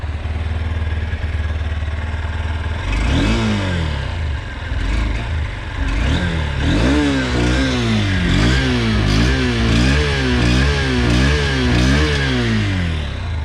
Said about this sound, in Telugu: ఒకసారి మనం ఇంజన్ ఆన్ చేసి చూద్దాం